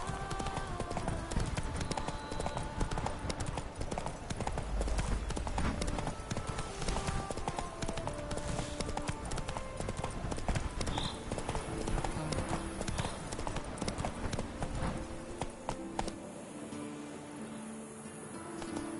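Roach the horse gallops in The Witcher 3, rapid clip-clop hoofbeats running steadily and loudly throughout over a musical score, easing off near the end.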